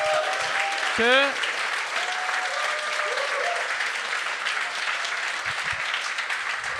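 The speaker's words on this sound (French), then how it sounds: "J'aimerais ça qu'on donne une bonne main d'applaudissement à Paul Oud." Studio audience applause for a guest named Paul Oud on a comedy talk show, a steady wash of clapping with a short vocal whoop early on and scattered voices underneath.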